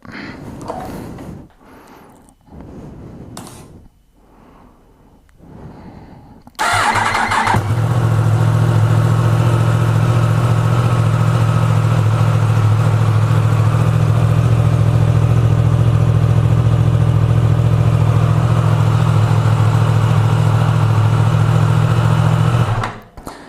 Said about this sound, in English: let's go ahead and start the bike up